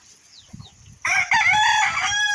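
A rooster crows once, loud and close, a drawn-out harmonic call after a second of soft clucking and low rustle.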